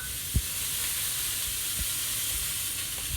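Butter and oil sizzling in a frying pan while cooking spongy mtlou' flatbread, a close, steady hiss with a few soft ticks and pops, no talk.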